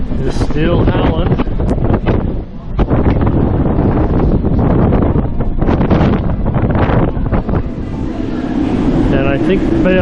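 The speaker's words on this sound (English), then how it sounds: "And that wind is still howling." Strong wind at the top of a bell tower in Iceland buffets and roars across the microphone, gusty and loud, with rustling and brief bursts of noise throughout.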